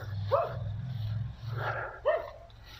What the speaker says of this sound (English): Another dog barking.